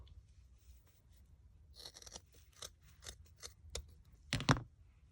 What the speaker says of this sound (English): we're going to cut through our loop.